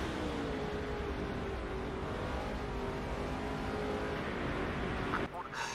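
Race car engine from the video game NASCAR 07 drones steadily and loudly throughout, a sustained motor hum that briefly dips near the end.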